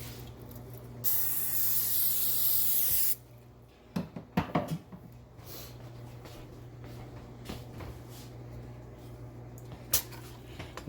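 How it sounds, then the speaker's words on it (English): Olive oil cooking spray hisses onto a dish in one steady burst of about two seconds, followed by quiet kitchen clatter and soft taps. "I'm gonna spray it with some olive oil"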